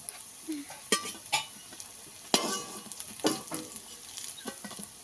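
Prawn fritters frying in hot oil, a steady soft sizzle with sharp clinks and scrapes of a utensil turning and lifting them from the pan, no talking.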